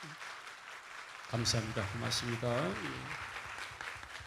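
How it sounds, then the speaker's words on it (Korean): A church congregation at a Sunday service applauding a visiting pastor, steady clapping heard under a voice speaking over it. "박수 한번 드리겠습니다"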